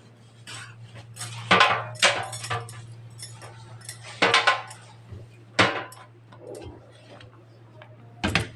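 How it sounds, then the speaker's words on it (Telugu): Dishes, pots and steel utensils being washed at home, irregular bursts of clinking and clattering metal close by over a steady low hum, no talking. "ఈలోపు గిన్నెలు కడిగేసేస్తాను."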